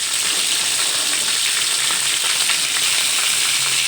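Curry leaves crackle and fry in hot oil in a pan while cabbage palya is cooked, a dense, steady sizzle with rapid sputtering pops throughout, close and loud with no talking.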